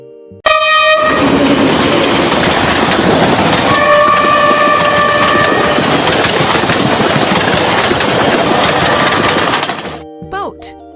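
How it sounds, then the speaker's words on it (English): A train rumbles past loudly with a sustained wash of rolling noise, and its horn sounds twice, first briefly at the start and again for a longer blast midway, before the sound fades out near the end. "Train."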